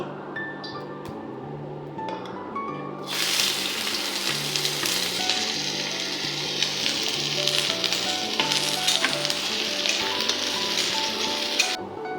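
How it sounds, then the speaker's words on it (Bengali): Chopped onions dropped into hot mustard oil in a wok, a quiet pan suddenly bursting into a loud, bright sizzle that holds steady with faint clinks of utensils. "কড়াইতে সর্ষের তেল গরম করে সবার প্রথমে দিয়ে দেব কুচনো পেঁয়াজ"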